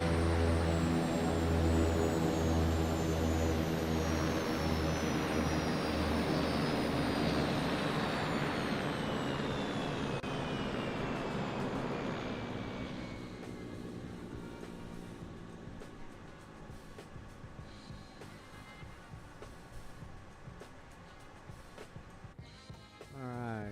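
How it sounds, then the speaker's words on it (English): Beech Starship turboprop engines shutting down in Microsoft Flight Simulator 2020: a loud, steady propeller and turbine roar with a falling whine slowly spools down, fading to a quieter residual hum by the end. "Engine's coming off."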